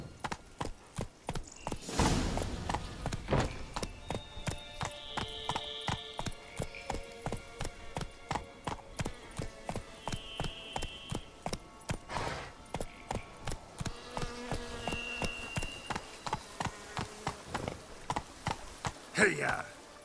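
A horse's hooves clip-clop at a steady trot in the video game The Witcher 3: Blood and Wine. The rhythm is even and close, accompanied by soft game chimes and tones, and a voice speaks briefly.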